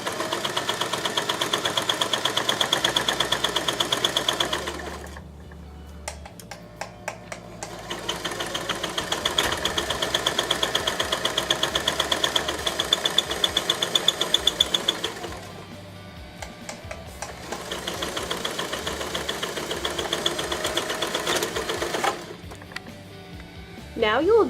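A sewing machine stitches a fabric pillow with pins in place, running in steady bursts of several seconds separated by short pauses, with a mechanical hum carrying throughout.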